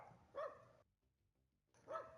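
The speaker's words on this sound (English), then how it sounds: "they're barking at an RC car." Dogs barking outside at a big RC car: two sharp barks, one early and one near the end, with a silent gap between them, fairly distant.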